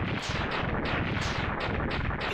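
Rapid, loud buster shots in Mega Man X3 against Sigma's giant battle body, a dense, unbroken volley of crunchy blasts with regular swelling bursts every fraction of a second.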